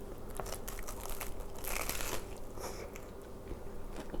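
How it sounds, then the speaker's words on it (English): Someone bites into a beet Reuben sandwich up close, a soft crunch followed by wet chewing and crinkling of paper wrapping, with no talk. "I think I have to take a bite"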